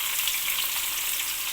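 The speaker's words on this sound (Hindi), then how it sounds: "अच्छा जी, ऑयल मैंने गरम कर लिया। अब मैं इसमें डाल दूँगी" Finely chopped onions dropped into hot cooking oil for a mutton karahi, giving a dense, continuous loud sizzle that holds steady without any talking.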